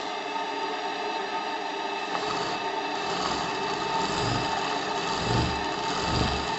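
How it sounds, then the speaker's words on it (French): Live steam engine JLS 13-2 running slowly on a workshop test bench, loose on a worktable: a steady, continuous mechanical hum with faint rhythmic chuffing, moderately loud and unbroken throughout. "c'est une machine qui sait déjà démarrer doucement"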